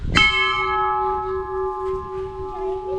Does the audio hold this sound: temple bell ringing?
yes